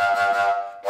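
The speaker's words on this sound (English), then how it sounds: "When I try to do this by saying H or by breathing into the instrument, it will sound like this." A fujara, a long Slovak overtone flute, sounds a single short breathy note made with an H-like breath attack, dull and airy with a soft hiss over the steady tone.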